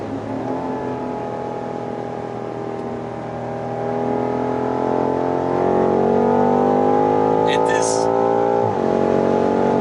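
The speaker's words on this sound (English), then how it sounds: "This 8-cylinder V8 twin-turbo engine is a masterpiece. What a sound!" A 2019 BMW M5's twin-turbo V8 engine revs steadily and climbs in pitch, a loud sustained drone that rises then drops off near the end.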